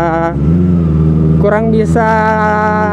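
A Kawasaki ZX-25R Limited Edition motorcycle engine revs on a test ride, holding a steady loud drone and then climbing in pitch with a couple of rising blips, heard close and continuous.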